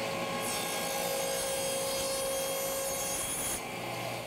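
A power tool makes a test cut forming a tongue in a wooden box part run against a fence. A steady motor whine rises as the blade engages the wood for about three seconds, then drops back to idle hum.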